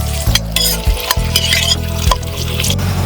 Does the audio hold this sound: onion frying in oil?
yes